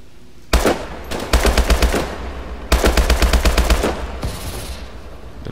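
Loud, close gunfire from Call of Duty: Advanced Warfare in rapid automatic bursts: a single shot, then two long rattling volleys separated by short pauses, fading into a softer tail.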